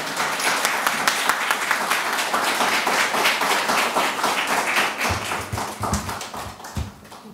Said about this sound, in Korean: 목사님 나오실 때 큰 박수로 환영하겠습니다